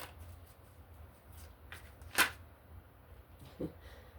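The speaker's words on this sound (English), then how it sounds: "I'm going to shuffle more easy so we can get the manifestation going" Tarot cards are shuffled by hand in soft, papery riffles and slides, with one crisp louder flick near the middle and a dull tap later, all close and quiet.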